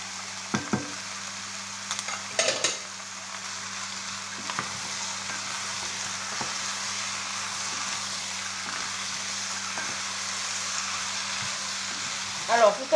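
Mushrooms sizzle and fry in a pan, a soft, steady crackle with occasional stirring clicks and a constant low hum underneath, no talking.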